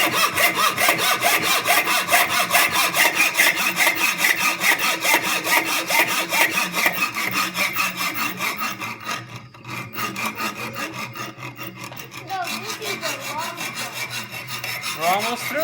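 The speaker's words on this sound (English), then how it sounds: "a hacksaw is used to cut metal" A hacksaw cuts through a metal screw in loud, close, rhythmic back-and-forth strokes that rasp continuously, briefly easing near the middle before resuming.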